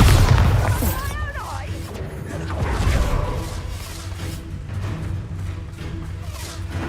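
A Bombarda spell goes off in Hogwarts Legacy, a loud booming blast at the start that rumbles and decays over several seconds amid game combat sounds, with a voice calling out the spell just before.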